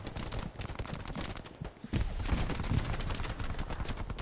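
Gunfire in Hell Let Loose during a German assault in a forest, with rapid bursts of rifle and machine-gun shots crackling nearby, a brief lull, then renewed heavy volleys.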